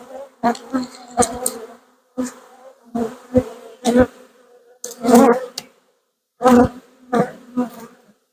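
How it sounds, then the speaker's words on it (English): Honey bees buzz around an open hive frame in bursts of close, loud droning that come and go with short quiet gaps between them. "A lot of bees."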